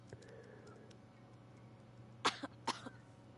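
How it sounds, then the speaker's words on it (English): A woman coughs in The Division 2, a quiet in-game character giving a couple of short, sharp coughs in quick succession over a low hum, fairly faint. "she's coughing."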